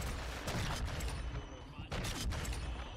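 Rapid sniper gunfire and impacts in the video game Modern Warfare 2, repeated bursts of shots under a continuous game soundscape, with a voice talking over it.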